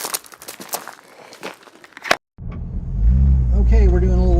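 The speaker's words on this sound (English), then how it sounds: "We're going to keep on driving." A vehicle bounces over rugged desert terrain, giving a rough, crunching rumble with irregular jolts for about two seconds before a brief break; then someone talks over a low engine hum.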